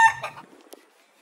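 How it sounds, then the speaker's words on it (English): A short burst of chicken clucking from across the street in Texas at moderate distance, a few quick fowl calls fading into quiet. "Chickens across the street, so Rocket's wondering what's all that cluck"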